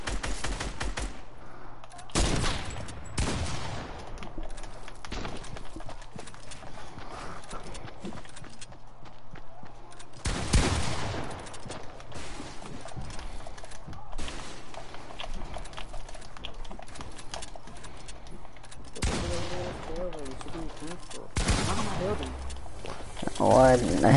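Rapid bursts of assault rifle fire in a video game come in several separate volleys, loud and close, between stretches of quieter game sound, while a player talks.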